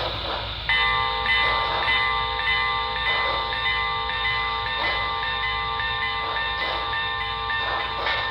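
A small model steam locomotive bell rings in a steady repeating rhythm, close by, over a constant whistle-like tone and low mechanical hum.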